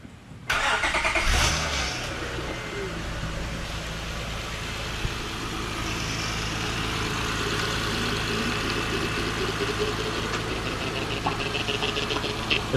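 A 2005 Acura TL cranks briefly and fires up, then settles into a steady, close idle with a constant engine hum that carries on through to the end, no talking.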